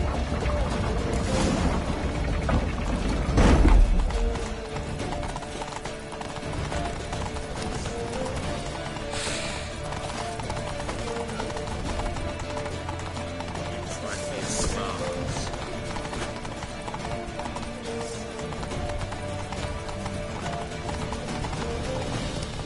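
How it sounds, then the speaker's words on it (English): Steady clip-clop of galloping horse hooves in the video game The Witcher 3: Wild Hunt, in a continuous rhythm, with a brief louder thud near the start and a busy background underneath. "Grab a horse to the temple!"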